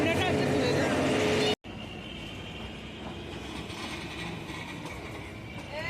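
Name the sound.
Kalka–Shimla toy train locomotive running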